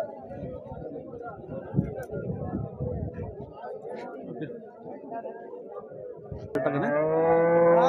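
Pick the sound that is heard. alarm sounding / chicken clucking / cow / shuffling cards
cow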